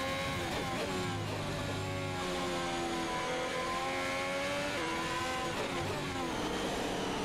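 A Formula 1 race car in F1 2021 drives in the rain at the Chinese circuit, its engine whining steadily as it shifts up and down through gears, with a continuous hiss of spray underneath.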